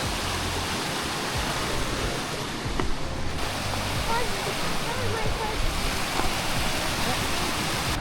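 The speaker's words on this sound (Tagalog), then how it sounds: "Ang sarap ng agos ng tubig." Waterfall Gully in Adelaide, South Australia, gives a constant broad rush of falling water and a flowing stream, close and loud, with faint voices now and then underneath.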